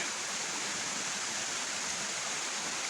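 A waterfall in Sabang pours with a constant, dense rushing roar, steady and unbroken throughout, with no voices.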